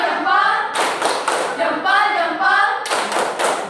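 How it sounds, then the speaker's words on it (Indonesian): Students in a class XI informatics lesson do a rhythmic 'tepuk salut' clap, sharp clap bursts mixed with group chanting and a teacher's voice nearby. "Tepuk salut."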